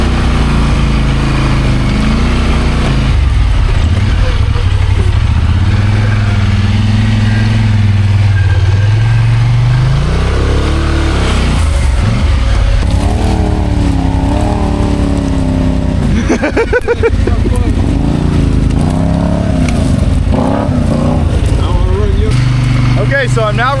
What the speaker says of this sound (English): Okay, so I'm now riding the Polaris 1000